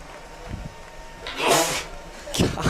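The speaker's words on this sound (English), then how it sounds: "That was a big sneeze, dude." A loud human sneeze at a baseball game between the Hernando Tigers and Collierville Dragons, a sharp burst midway through, with a second sneeze-like burst near the end over faint background noise and ballpark ambience.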